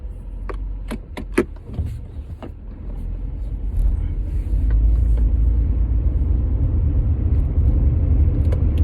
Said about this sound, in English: So you can hear me driving as I am heading out to the thing.